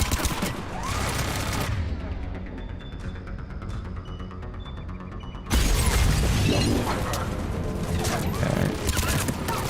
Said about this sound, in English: they do burst of fire